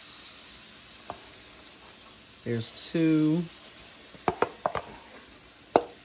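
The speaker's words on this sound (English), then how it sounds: "You hear that sizzle?" Pancakes sizzling in a Made In 12-inch blue carbon steel frying pan, as batter is poured in with a soft gurgle and then hisses and crackles in short bursts. A voice speaks briefly over the sound.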